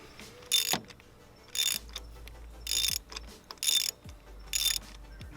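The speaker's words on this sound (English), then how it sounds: "stick her on down there, get her locked in, and then loosen her up" A ratchet fitted with a 5/8 spark plug socket loosens a spark plug on a MK6 GTI engine, giving five separate bursts of rapid clicking, each about half a second long and spaced evenly, close and alone with no talk.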